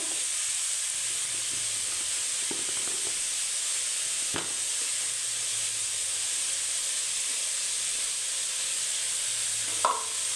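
Constant soft sizzle of salted, turmeric-spiced potatoes and carrots frying in a pan, with a couple of faint clinks of a utensil and no voices.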